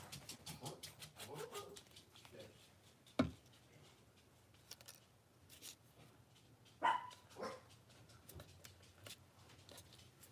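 Dogs bark excitedly at a home delivery in quick, irregular bursts, with a couple of sharper yelps and soft whimpering between them, heard at modest volume indoors.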